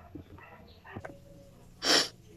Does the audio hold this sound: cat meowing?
no